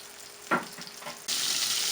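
A pork chop frying in a pan, giving a soft sizzle with a few brief bursts of crackle and then a louder, steady hiss that holds to the end.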